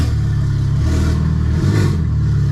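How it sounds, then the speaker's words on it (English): A BMW N54 engine with no exhaust fitted is blipped, its loud raw idle rising into a short rev and falling back, heard close and unmuffled. "Just gonna rev it a little bit."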